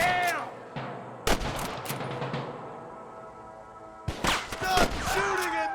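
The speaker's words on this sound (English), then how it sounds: "Stop shooting at me!" Gunfire rings out in the Western game Red Dead Redemption: a few sharp cracks and echoing reports, a quieter lull, then another cluster of shots, with voices shouting in between.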